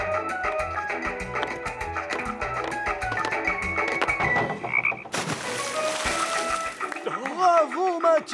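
A cartoon character imitates frog croaks, giving a series of warbling, rising-and-falling croaking calls near the end, after busy music and effects; talk is present in the scene.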